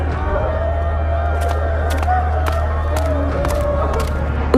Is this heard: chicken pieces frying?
no